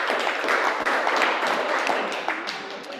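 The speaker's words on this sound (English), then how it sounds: "Let's give them a round of applause." Audience applause fills a Rotary club meeting room, a dense, steady wash of many hands clapping close by with no voices over it.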